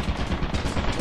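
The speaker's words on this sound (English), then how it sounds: "hit the turret that's currently firing" An automatic turret in the video game Lethal Company fires a rapid, continuous burst of loud machine-gun shots, close and dense for the whole second.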